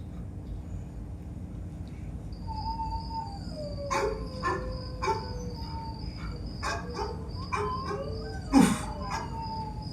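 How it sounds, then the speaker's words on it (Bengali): Dogs outside let out several drawn-out howls and a few short barks, fairly faint and distant, over a steady chorus of night crickets. "বাইরে কুকুরগুলো ওভাবে কাঁচে কেন"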